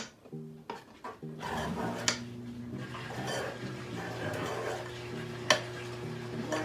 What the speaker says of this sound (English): Keep it moving and get it off the edges so there's less chances of burning.